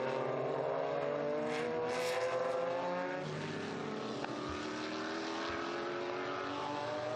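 Historic Porsche race cars at Estoril Classics 2021 roar past on the track in a continuous engine drone whose pitch slides as one car after another goes by. No voices are heard.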